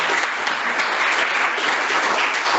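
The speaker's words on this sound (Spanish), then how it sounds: "Un aplauso de nuevo." Attendees of a course session on quantum technology hardware give a round of applause, a thick, even crackle of many clapping hands that holds steady throughout without any talking.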